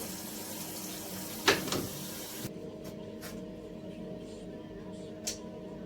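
Water gushes steadily into a washing machine for a couple of seconds, then cuts off abruptly, leaving a quiet room with a few faint clicks and drips.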